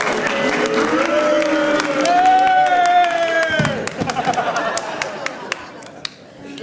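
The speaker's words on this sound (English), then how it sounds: "I'm sure you'll give him a really good round of applause" A comedy-show audience cheers and shouts as a guest, Michael Owen, is welcomed. Loud voiced cheering swells and fades, followed by scattered sharp claps.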